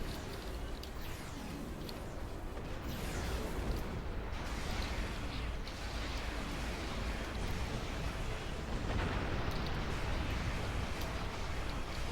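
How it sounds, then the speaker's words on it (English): Sustained rumbling blast from a bomb hitting a battleship in a naval video game, a dense roar that swells and holds for several seconds with no talk over it. "Let me use the bomb to blow up the battleship."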